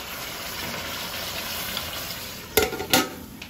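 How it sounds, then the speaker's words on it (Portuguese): Pork ribs frying in a pot: a steady hiss of frying runs throughout, then two quick clattering bursts near the end as hot water goes in and the lid goes on. "e agora vou colocar mais um pouquinho de água quente. Vou tampar e vou esperar cozinhar"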